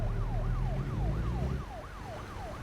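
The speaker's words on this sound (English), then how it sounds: "I hear the police, they're looking for me." A wailing police siren sweeps up and down in repeated cycles inside a truck driving video game, loud and close over a low engine rumble.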